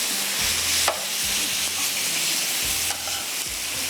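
Chicken mince fries on a tawa with crushed red chilli, cumin, ginger and garlic, sizzling loudly and steadily while a spatula stirs and scrapes it in a few distinct strokes.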